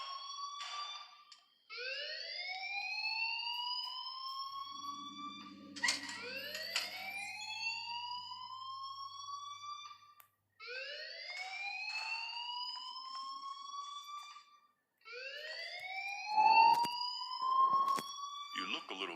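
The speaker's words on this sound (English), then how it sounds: "please turn off that alarm since that's your job" A fire alarm sounds in the video game Life is Strange: a loud electronic whooping tone that sweeps upward again and again in steady cycles, with brief gaps between bursts and a faint low murmur beneath.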